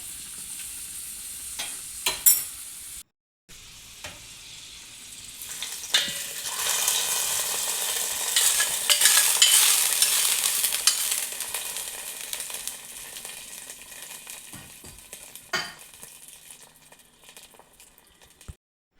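Raisins and cashews frying in ghee for sadya-style palpayasam, a sizzle that swells and fades, with scattered sharp stirring clicks and taps.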